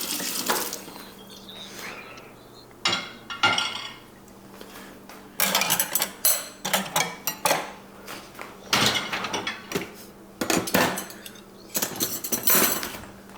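Dishes being washed at a home sink, with running tap water, clinking cutlery and clattering pots in bursts and pauses, close and fairly loud, with no voices.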